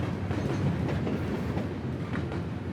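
A freight train rolls along the Tehachapi Loop railroad in California, a loud close rumble with continuous rhythmic clickety-clack of wheels over the rails.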